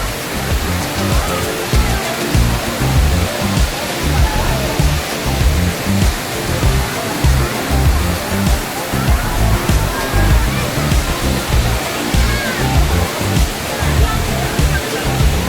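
The Lapas waterfall in Barot Valley, Himachal, roars with a dense, continuous rush of falling water, loud and close throughout.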